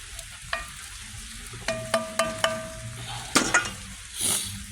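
Vegetables sizzle in a hot pot outdoors, a low steady hiss broken by several sharp metallic clinks and scrapes from stirring, close and clear, with no voices.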